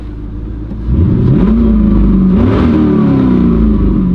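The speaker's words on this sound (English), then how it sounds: "I just gotta rev it so you guys can hear it." An LS1 V8 in an F-body car idles with a deep rumble, then is revved hard several times, the engine note climbing and falling in loud, close bursts with no talking.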